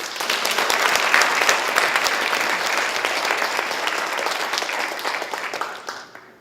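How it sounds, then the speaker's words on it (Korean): A church congregation at a testimony service bursts into loud, sustained applause, a dense wash of many hands that holds steady for several seconds before fading out. "그럴 땐 박수."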